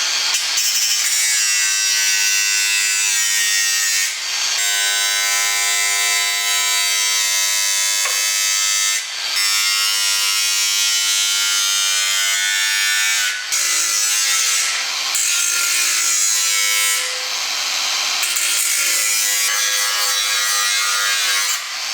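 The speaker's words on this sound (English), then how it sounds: "So let's get the angle grinder out and chop that off." An angle grinder cuts away part of a steel panel on an Austin J40 pedal car, giving a loud, steady high-pitched whine with three brief dips where the disc eases off, and no talking.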